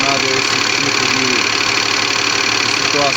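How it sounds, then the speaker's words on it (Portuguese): An electronically controlled Cummins engine running steadily with a dense, loud, even drone, heard up close with a slight pulsing throb and no clear change in pitch. "Motor redondinho, acelerando bem."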